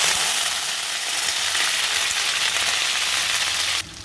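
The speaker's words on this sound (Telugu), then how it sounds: "ఇది కొంచెం బ్రౌన్ కలర్ వచ్చే వరకు వేయించుకోవాలండి" Onions frying in hot oil with cinnamon, cloves and three cardamom pods for a chicken gravy, a loud steady close sizzle and crackle that drops off sharply near the end.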